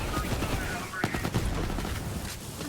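Rapid gunfire from a powerful weapon in Borderlands 3, a dense run of quick shots with sharp cracks near the middle, under faint game noise and brief talk.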